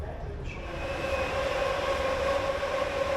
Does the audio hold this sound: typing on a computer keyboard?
no